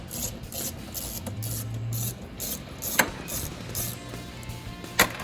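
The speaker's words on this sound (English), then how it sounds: "We're going to take the 8mm and get the air intake off" A ratchet with an 8mm socket loosens the air intake bolts on a vehicle being fitted with a dual alternator bracket kit, giving rapid, close clicking bursts with a short whirring pull and two sharp metallic taps.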